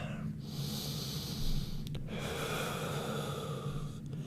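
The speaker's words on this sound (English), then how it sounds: "We're just going to take about 3 to 5 breaths here." Slow, steady breathing through a yoga stretch in a full-body mobility sequence: soft close inhales and exhales with a couple of sharper sniffs, quiet and intimate over faint room hum.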